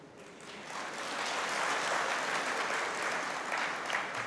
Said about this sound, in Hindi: अब आप लोगों ने ये तालियां क्यों बजाई हो मुझे बताएं।